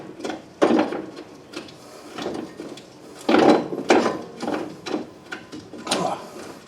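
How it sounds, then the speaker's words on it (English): A wrench loosens the nut at the top of a 2009 Honda Pilot front strut, with a series of irregular clicks and metallic rattles at close range, plus faint breathing and handling noises. "I'll undo this nut at the top"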